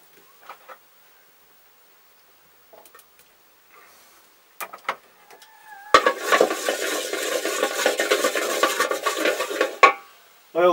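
Oil poured into a pot heating over a wood fire with good coals, a sudden loud hiss and crackle of sizzling that bursts in partway through and runs steadily for about four seconds before cutting off, after a few faint clinks.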